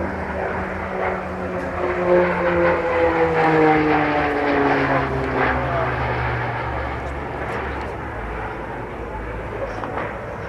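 Propeller engines of a Beechcraft King Air at an air show, a steady drone with gliding pitch as the aircraft passes, swelling and then easing, with crowd and voices faintly underneath.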